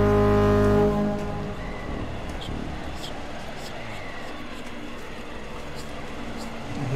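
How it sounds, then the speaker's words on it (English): A foghorn in the horror game Stories Untold: a deep, loud blast at the start that fades into a low rumbling ambience, with faint, brief higher tones drifting through. "What's with the foghorn?"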